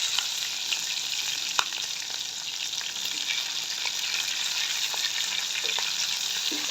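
Capsicum stir-frying in a pan with garlic, a steady bright sizzle with occasional faint stirring taps, close and continuous with no talk.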